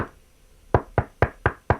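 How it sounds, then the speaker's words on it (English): Five firm, evenly spaced knocks land on a farmhouse door in Norway, close and loud, each with a hollow woody thud, after a brief quiet lead-in. "I went up to it and knocked at the door."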